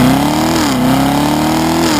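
Loud, close engine drone from a 2017 Corvette Grand Sport under acceleration, a sustained growl with a slight pitch dip and rise before climbing again, no speech.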